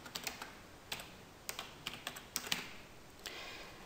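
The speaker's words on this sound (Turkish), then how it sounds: "Bu sefer alt klasörün ismini yazıyorum." Folder name being typed on a computer keyboard, a quick run of sharp key clicks in uneven bursts with short pauses, close and fairly quiet, no voices.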